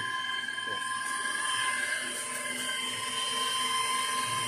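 A machine cuts on a Dodge 300C exhaust manifold, a continuous high-pitched metallic whine with steady tonal layers, loud and unbroken throughout.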